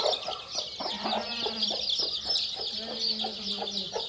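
A hen with week-old chicks clucks in low, repeated bursts under a steady bed of high chick peeping, fairly faint and close, with no voices.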